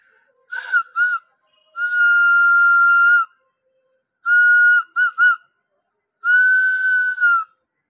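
A whistle blown through a snail shell on a hillside trek gives clear, shrill tones in separate blasts: two short toots, a long held note, then a long note, two quick chirps and another sustained blast, loud and close.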